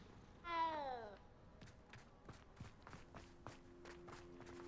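A single clear, close cat meow in the Hogwarts Legacy video game, followed by a run of soft, evenly spaced footsteps and a low steady tone underneath.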